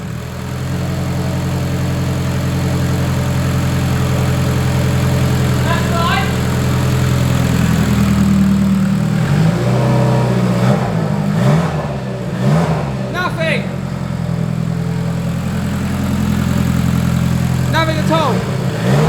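A car with a gearbox fault, just put into drive after laps of the Nürburgring, runs steadily close by with a low engine drone and some revving swells, while people talk over it.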